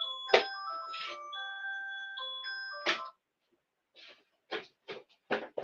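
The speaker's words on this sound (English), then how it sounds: "Sorry about that. It's my other alarm." An alarm goes off at close range, playing a short melodic run of bright chiming beeps. It stops abruptly, followed by a few soft clicks and taps.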